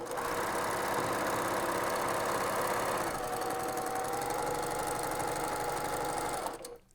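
A sewing machine stitches a fabric composition book cover, running at a steady, continuous whir for about six seconds at close range before stopping abruptly near the end.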